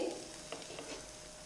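Idli pieces fry in a pan with a faint, soft sizzle and a few light stirring scrapes at close range.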